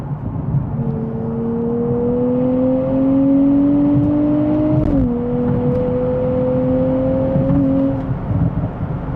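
A Nissan Nismo Z engine revs steadily upward with a shift partway through and a few sharp exhaust pops, loud and close.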